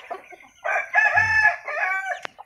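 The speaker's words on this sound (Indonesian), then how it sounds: "Jagonya jago Bangkok itu dia. Tuh bapaknya itu." A Bangkok-breed rooster crows once, close and loud: a drawn-out, wavering cock-a-doodle-doo that rises and breaks into several segments, ending with a short sharp click.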